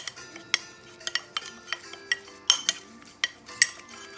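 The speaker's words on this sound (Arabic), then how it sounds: "هوب دونك هذوما باش نخلطهم مليح" Oil and spices being stirred together in a bowl with a utensil, a series of sharp clinks and scrapes against the bowl repeating at an uneven pace, close and clear with no talking.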